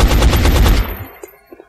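Gunfire from the video game XCOM: Enemy Unknown, a loud rapid burst of automatic shots lasting under a second that fades with a short echoing tail and a couple of faint later clicks.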